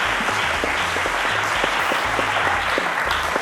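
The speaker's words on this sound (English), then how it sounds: "Let's give him a round of applause" Studio audience applause for a student contestant on the Cowbellpedia quiz show, a dense, loud, steady wash of clapping throughout, with a low hum underneath.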